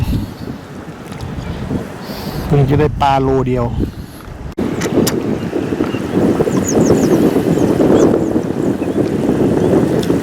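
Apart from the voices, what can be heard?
strong wind at Lam Takhong reservoir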